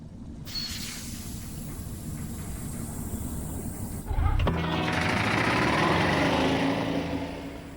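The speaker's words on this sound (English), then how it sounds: "Engine running." Escape pod engine in the Expect You to Die VR game starting up: a quiet hum, then a sharp thump and a loud, sustained whirring roar that holds steady to the end.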